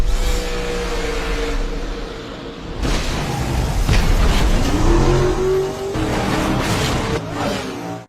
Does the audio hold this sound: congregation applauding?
no